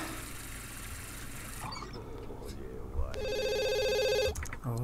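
A telephone rings in The Sims 2, a repeating electronic trill that comes in near the end over game ambience and soft background hum.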